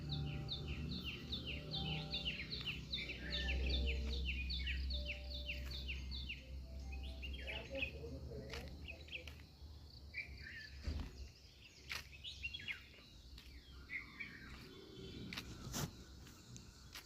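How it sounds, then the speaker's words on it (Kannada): Birds singing at dawn near a forest homestay: repeated rhythmic chirping phrases up close at first, crickets buzzing beneath, then scattered calls and a few sharp knocks as the chorus thins. "ಬರ್ಡ್ಸ್ ಸೌಂಡೆಲ್ಲ ಕೇಳೋಕ್ಕೆ ಅದ್ಭುತವಾಗಿದೆ"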